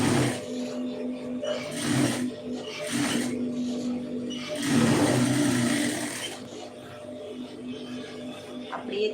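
A sewing machine stitches a neck design on a garment, running in a few bursts of motor whir and needle chatter with brief pauses between, fairly close and steady, with no talk.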